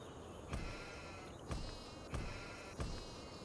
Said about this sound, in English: every time I put the fence down, we get some sheep noises in the background